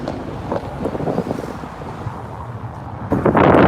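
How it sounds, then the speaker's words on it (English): Strong wind gusting outdoors in Yakima, Washington, rumbling and buffeting against the microphone, growing louder and harsher toward the end. "it's pretty windy out here"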